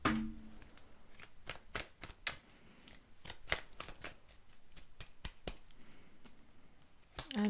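Tarot cards are shuffled in a run of crisp, close riffling snaps and clicks, spaced irregularly, with a card pulled near the end; quiet and with no voices.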